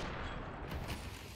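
Gunfire in a Counter-Strike esports match on the Ancient map, Virtus.pro against HEROIC: dense, continuous bursts of shots and in-game noise, loud and steady throughout.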